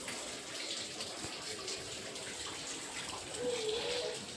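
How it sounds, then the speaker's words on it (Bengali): Water runs steadily from an outdoor tap into a container, a continuous soft gushing hiss at moderate loudness with no breaks, heard alone without talk. "চলো বাইরের জলটা আগে ভরে নিই"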